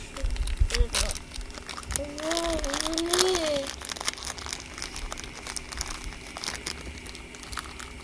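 A surprise toy packet is torn open, and its plastic wrapper crinkles and crackles up close in quick bursts. Someone speaks over the sound and briefly sings.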